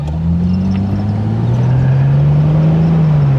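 A six-cylinder Ford Mustang convertible pulls hard under acceleration, its engine drone rising steadily and loud in pitch, heard from inside the car as a continuous close hum with road noise and no talking.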